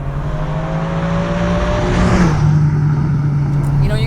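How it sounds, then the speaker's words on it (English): A 2003 Ferrari 575M front-engine V12 hums at a steady low rev, a fairly loud, even drone with a slight shift midway, heard alone. "It's a front engine V12 Ferrari, and I kind of want it to scream."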